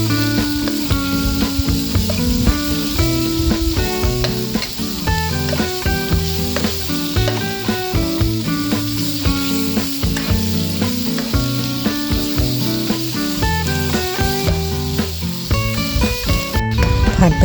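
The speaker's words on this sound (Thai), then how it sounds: "ผัดไปเรื่อยจนกว่าหมูของเราจะสุกค่ะ" Steady, loud sizzling and frying of pork stir-fried with curry paste in a hot pan, continuous throughout with a busy crackle of food being stirred.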